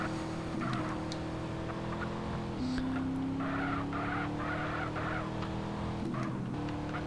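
A fast car in CRMP, a Russian GTA-style online racing game, roars with a steady engine drone, shifting pitch as gears change, with repeated tire squeals and skids in the middle of the run.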